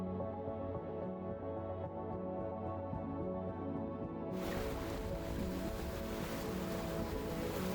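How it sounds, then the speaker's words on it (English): Gentle white surf washing along a West Coast shore, with a continuous soft rumble and wash that opens up brighter and fuller about halfway through, no voices present. "Above the surface, white waves crash gently along the shore, filling the air with a peaceful, rhythmic sound."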